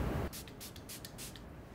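Soft, quick spritzes of a makeup setting spray bottle, several short hissing bursts close by and fairly faint.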